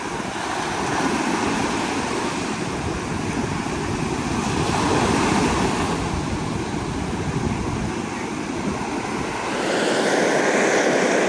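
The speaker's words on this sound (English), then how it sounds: "the waves crashing just the other side of the sandbank" Ocean waves crash on the far side of a sandbank near Maji, Hiroshima, making a steady, loud roaring wash with no break, swelling slightly near the end.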